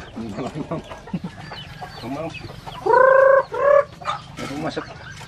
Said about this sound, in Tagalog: tignan natin kung makikilala si Rasid ng kanyang mga labuyo